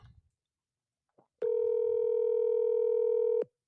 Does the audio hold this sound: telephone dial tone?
yes